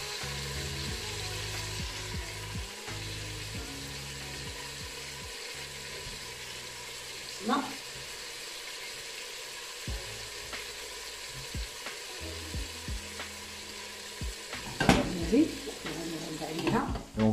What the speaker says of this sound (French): Pour ensuite pouvoir mettre les oignons et l'ail qu'on a coupé.